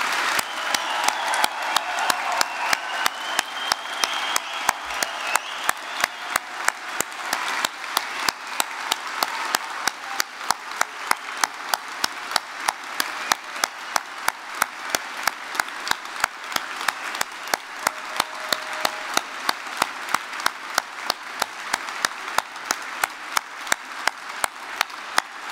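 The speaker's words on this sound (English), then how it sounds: "round of applause." A large audience at a Belfast university degree ceremony gives graduates a sustained round of applause, steady dense clapping that continues throughout, with individual claps standing out in a regular rhythm.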